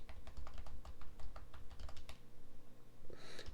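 Computer keyboard arrow keys are tapped in a quick irregular series of close, crisp clicks during Photoshop work, with a brief rustle at the end and no talking.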